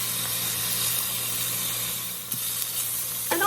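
Chicken pieces caramelize in a hot pan with onion and jalapeno in a brown sugar garlic dish, producing a close, loud, continuous sizzle with a faint low hum and a few scraping clicks near the end.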